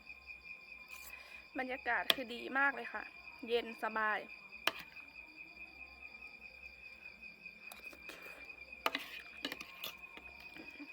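Crickets chirp outside a house on a cool evening, a steady high-pitched trill running continuously in the background while someone talks and a few sharp clinks sound.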